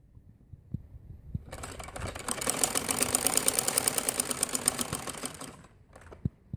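A sewing machine stitches a frock seam, its rapid needle chatter rising from quiet to a steady run of several seconds before stopping, with a few light clicks of handling around it.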